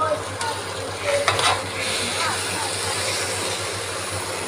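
Cooked rice is stirred into a hot frying tempering for mango pulihora, giving a steady sizzle with scraping and stirring sounds, close and continuous, over a low background hum.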